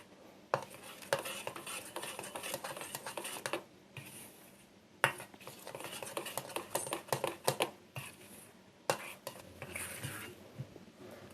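Chocolate cupcake batter stirred in a bowl with a spoon, made of quick scraping, clicking strokes in bursts separated by brief pauses, fairly quiet and close; no speech.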